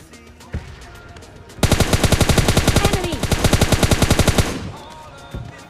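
Gunfire in the mobile battle-royale game PUBG Mobile Lite, a sudden loud burst of rapid automatic shots lasting about three seconds, preceded and followed by sparse single shots and quieter game sounds.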